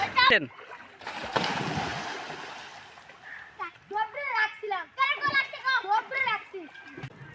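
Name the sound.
children diving and splashing into water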